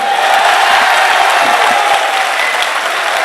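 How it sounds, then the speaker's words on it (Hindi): A dense, loud wave of audience applause fills a mushaira poetry recital in Aligarh, steady and unbroken throughout with a faint murmur of the crowd beneath. "आप तमाम लोगों को शेर अच्छा लगा तो सभी की तालियां एक साथ आनी चाहिए"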